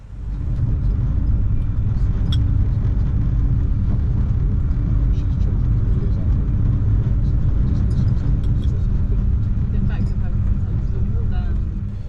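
Inside a Eurostar E300 train running at 300 km/h, a steady low rumble and rushing hum fill the cabin with faint clicks, constant and unbroken throughout.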